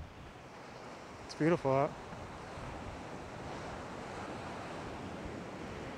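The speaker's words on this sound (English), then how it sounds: "It's very windy out here." Broad, steady roar of wind and surf at Leo Carrillo State Beach in Malibu fills the scene, with a brief spoken phrase near the start over the constant rushing noise.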